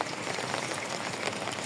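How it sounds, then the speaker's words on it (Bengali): Heavy downpour of rain drumming steadily on surfaces, a dense, even hiss of countless drops with no gaps, close and moderately loud throughout. "খুব সুন্দর করে বৃষ্টি হচ্ছে মুষলধারে।"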